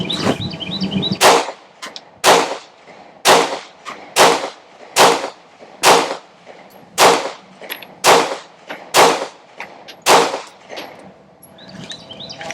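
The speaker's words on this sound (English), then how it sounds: "so 7 rounds through the Glock 43X.5, we'll call this one" A custom Glock 43X pistol with a 43 frame and 48 slide fires a steady string of loud, evenly spaced shots, about a second apart, each a crisp crack with a short ringing echo.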